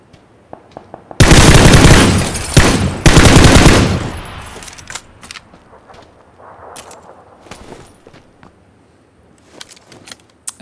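Gunfire in PUBG on ultra settings, a dense burst of automatic shots for about three seconds followed by scattered single cracks and quieter distant shots.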